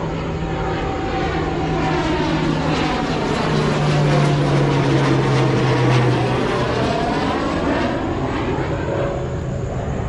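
A small propeller plane passes overhead, its engine drone steady and loud for about ten seconds, swelling slightly in the middle as it comes nearest, with a shifting tone as it moves past and no one talking.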